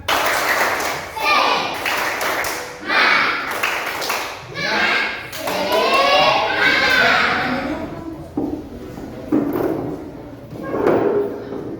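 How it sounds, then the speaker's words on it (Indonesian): A group of schoolchildren claps hands in a rapid rhythmic pattern, with bursts of clapping and children's voices chanting along in between. "Tepuk tangan semangat."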